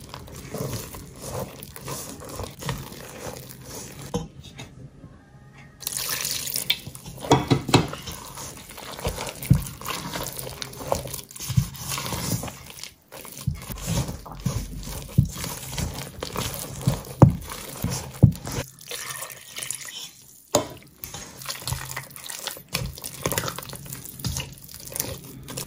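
Water runs and splashes, as from a tap, while fish ball dough of fish, egg and water is mixed and water is added a little at a time, with intermittent liquid sounds and soft handling noises throughout.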